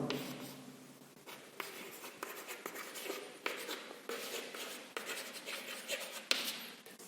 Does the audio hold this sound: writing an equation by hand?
yes